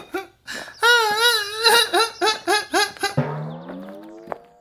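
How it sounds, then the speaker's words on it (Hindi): A cartoon character cries in a Hindi Chacha Chaudhary comic story, with loud rhythmic sobbing bursts and wailing pulses, then a long trailing whimper, heard alone and close. "तभी रोने की आवाज आई।"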